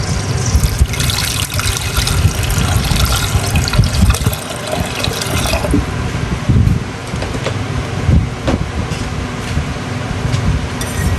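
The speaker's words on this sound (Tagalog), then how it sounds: "Maglagay tayo ng water." Water pours into a cooking pot during Filipino home cooking, a loud, steady rushing splash that thins and softens partway through, with faint clinks near the end.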